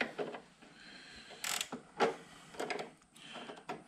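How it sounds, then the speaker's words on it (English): A ratcheting wrench clicks in short, irregular bursts on a 2011 Yamaha Apex snowmobile, fairly close but quiet, with small mechanical clacks in between. "What you do is use a ratcheting wrench."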